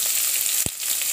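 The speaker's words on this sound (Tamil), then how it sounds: "இது வந்து ஆனியன் வந்து கொஞ்சம் கோல்டன் அந்த கலர் சேஞ்ச் ஆகிற வரைக்கும் நம்ம வந்து வதக்கணும்." Onions for biryani sauté in a hot pan with a bright, continuous sizzle. Two short, heavier stirring knocks break into the frying, one in the middle and one near the end.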